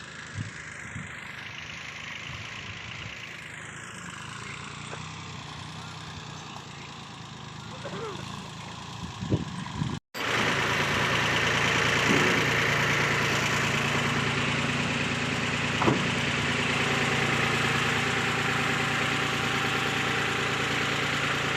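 A tractor engine idles on a pomegranate farm as crates are gathered, a steady low rumble that grows louder and closer partway through, with people talking over it in the first half.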